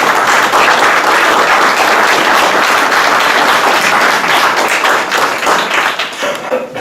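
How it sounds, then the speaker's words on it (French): Dense, sustained applause from a crowd at a French village community gathering, loud and steady for several seconds before thinning slightly near the end. "Vous pouvez les applaudir parce qu'ils travaillent beaucoup."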